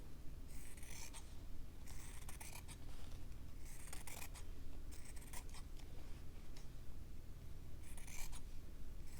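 Scissors snip through fabric while a shape is cut out by hand, with several close bursts of crisp cutting strokes separated by short pauses against a low steady background hum.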